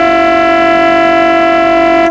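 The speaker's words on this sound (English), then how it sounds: "Half-time siren gone." A half-time siren sounds at a 2023 round 4 Australian rules football match between Myrtleford Saints and Wangaratta Rovers: a single loud, steady, horn-like tone that holds for about two seconds, then cuts off abruptly.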